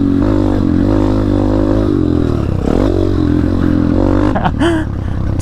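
A pit bike engine that revs on its own roars loud and close in a steady drone, its pitch wavering and rising, before a sharp scraping squeal near the end.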